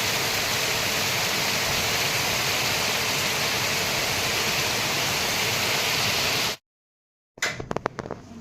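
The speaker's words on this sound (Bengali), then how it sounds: "প্রচুর জোরে বৃষ্টি হচ্ছে প্রচুর জোরে" Heavy rain pours down outside a window, a dense, loud, steady hiss that continues unbroken for several seconds before cutting abruptly to silence, followed by a few faint clicks and rustles.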